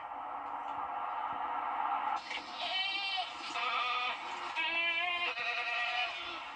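A large herd of goats grazing on a strip of land by the Sacramento River, several bleats overlapping at moderate distance over a steady background hum.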